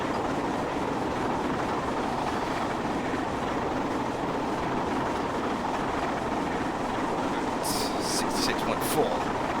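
A train in Train Simulator 2017 on the London to York route rolls downhill with a steady, continuous rumble and faint rail noise, while someone talks over it.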